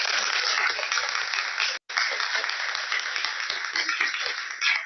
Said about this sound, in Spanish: un aplauso para nuestro país